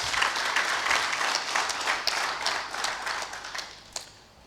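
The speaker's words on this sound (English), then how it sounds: "Shall we give him a round of applause?" Audience at a lands directors' conference applauding a government minister, a dense burst of many hands clapping that tapers off toward the end, with a single louder clap near the close.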